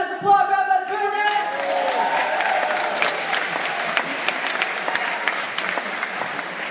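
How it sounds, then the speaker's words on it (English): Audience applause at a kosher music premiere honoring a rabbi, swelling from the start and continuing steadily as dense, even clapping from a sizable crowd; musical tones fade out at the beginning. "Can I hear you guys applaud Rabbi Burnett?"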